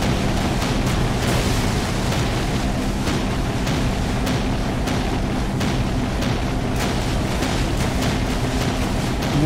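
A captured motor boat on water in the video game Call of Duty: United Offensive, a loud, steady roar of engine and rushing water with sharp intermittent pops cutting through.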